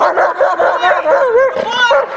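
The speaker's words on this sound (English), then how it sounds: "how to get a protection dog to bark at a random person out in public" A protection dog barks and yips out in public, a rapid run of sharp, close, loud barks with whimpering tones, mixed with a person laughing.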